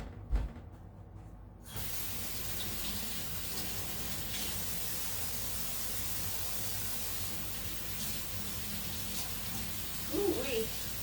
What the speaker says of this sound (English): Let me rinse my cheesecloth